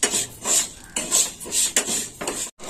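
Mung dal dry-roasting in a pan while being stirred gives repeated rhythmic scraping and rasping strokes, each lasting about half a second, close and moderately loud, with a clink near the end.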